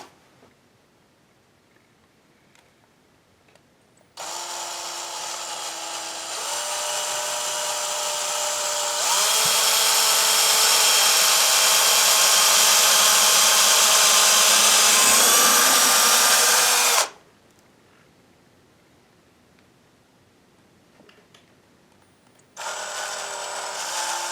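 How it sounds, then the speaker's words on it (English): A power drill pre-drills holes for window blind brackets, whirring loudly in two long bursts that rise in pitch, then stopping before a third run starts near the end. "we're going to pre-drill those holes"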